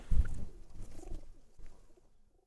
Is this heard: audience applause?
no